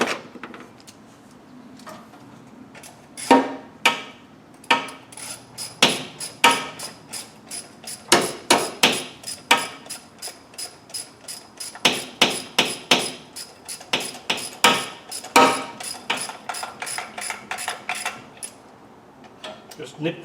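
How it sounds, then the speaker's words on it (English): Repeated sharp metallic clicks and clanks from wrenching bolts tight on a Land Rover Defender 4-cylinder clutch mechanism, a steady irregular series of close, loud knocks across the whole stretch with no speech. "Tighten the bolts down."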